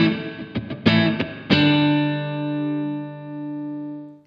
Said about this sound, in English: Room 2 sounds like you're playing in a new apartment without any furniture in it.